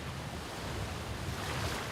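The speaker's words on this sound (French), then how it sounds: "Lorsque le vent fait rouler les vagues et rafraîchit l'air" Ocean waves wash onto Pearl Beach in Phuket, Thailand, a soft continuous surf rush mixed with light wind. The sound is distant and fairly faint, with no voices.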